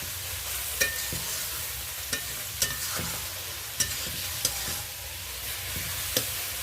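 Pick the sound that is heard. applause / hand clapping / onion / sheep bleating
onion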